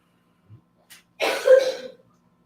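A woman gives a short burst of coughing, a couple of faint throat sounds first and then a louder, rough cough lasting under a second, close and alone with no talk.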